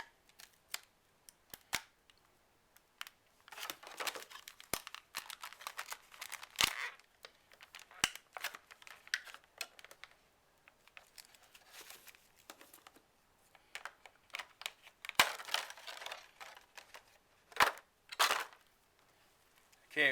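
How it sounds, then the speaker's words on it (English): Scissors cut a He-Man Masters of the Universe action figure free from its cardboard packaging backing, giving sharp intermittent snips and crinkling plastic rustles at close range, with occasional quiet speech between them. "give me a minute to find the scissors"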